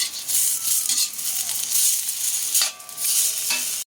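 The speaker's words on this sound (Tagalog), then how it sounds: "Igigisa ko lang po kasi tatanggalin ko siya." Vegetables and shrimp sizzle loudly in a pan of coconut milk for ginataang gulay while a spoon stirs them, with a steady frying hiss and scraping strokes close up.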